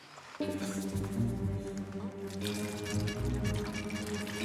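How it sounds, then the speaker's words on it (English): Liquid poured steadily for a common chemical reaction, a continuous splashing, gurgling stream that starts abruptly and runs loud and close, with some music-like tonal sound in the background. "You're pouring too much!"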